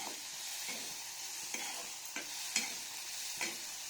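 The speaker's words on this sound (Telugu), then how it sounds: "ఇంత డ్రై రోస్ట్ అయ్యే వరకు ఫ్రై చేసుకోవాలి." Dry shrimp being dry-roasted and stirred in a pan, a soft continuous hiss of frying broken by light scraping strokes of the spatula every second or so, fairly quiet and close, no talking.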